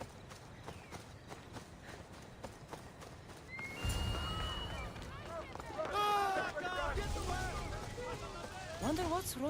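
A horse in Assassin's Creed Odyssey clip-clops along, its hoofbeats growing louder and faster midway, then breaks into a few rising whinnies near the end, heard over game ambience.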